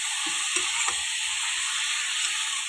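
Cauliflower curry fries steadily in a hot pan, a continuous bright sizzle with soft stirring scrapes and clinks underneath, close and even throughout.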